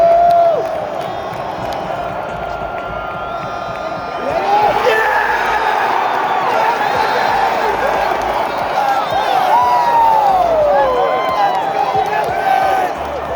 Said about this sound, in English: And the crowd went wild for the first playoff victory since Super Bowl 53 against the Rams